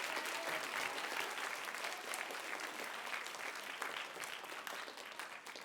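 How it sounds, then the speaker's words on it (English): A room full of people at a middle school spelling bee claps steadily for several seconds, a continuous patter of applause with no voices on top. "let's give Devin and Josh a round of applause."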